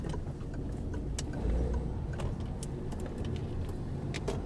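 A car rolls slowly, its low steady engine rumble heard from inside, with occasional small ticks and clicks on top and no talking.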